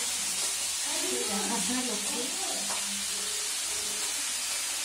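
Food sizzles and hisses steadily in a frying pan in a home kitchen while someone stirs it, with voices talking over the cooking.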